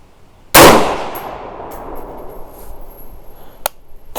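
Single sharp, loud 6.5 Grendel rifle shot firing an 85-grain Sierra Varminter bullet, followed by a decaying echo and a faint metallic click a few seconds later.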